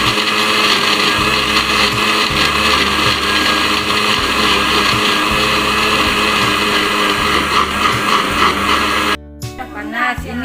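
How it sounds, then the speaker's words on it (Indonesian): A blender grinds spices for Acehnese chicken rendang, roaring loudly and steadily for about nine seconds, then cuts off abruptly, leaving a brief bit of clatter at the end. "Sekarang kita blender alatnya, bumbunya ya."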